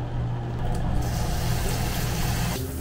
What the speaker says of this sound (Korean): 환풍기가도는것같아요